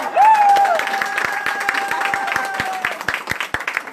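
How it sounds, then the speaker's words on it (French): An audience applauds at a hairdressing school's graduation and hairstyle show. Brisk, crowded clapping starts loud, and a rising, whistle-like cheer rides over it before the clapping gradually thins out. "Je vous demande des applaudissements, s'il vous plaît."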